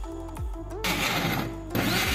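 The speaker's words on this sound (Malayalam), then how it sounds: "അതിനുശേഷം നമ്മൾ മിക്സിയിൽ അരച്ച് കൊടുക്കുകയാണ്" A mixie grinder whirs as it blends poovan bananas with milk, the motor loud and close, running in a steady burst that stops briefly and then starts again.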